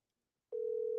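A telephone call tone starts abruptly after half a second of silence as a single steady electronic pitch that holds clearly to the end.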